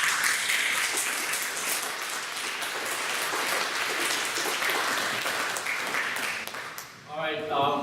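Dense, steady clapping fills a Staten Island forum audience on diversity and specialized high schools, holding at full strength for about seven seconds before thinning abruptly as a voice begins.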